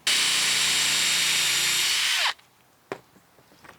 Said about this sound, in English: we can drill in our screws